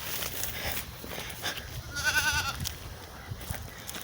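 Goats bleating at a small farm pen, a short wavering bleat standing out midway over soft outdoor background noise, with a few fainter animal sounds around it.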